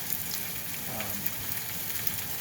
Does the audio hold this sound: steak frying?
yes